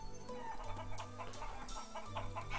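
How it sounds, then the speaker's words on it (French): Chickens cluck in the Shenmue video game, giving repeated short clucks over a steady, busy background of in-game ambience. "poussez-vous les poules."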